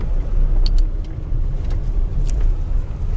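A car driving along a gravel road at modest speed, a steady low engine and tyre rumble with faint rattles and a few brief high squeaks, no talk.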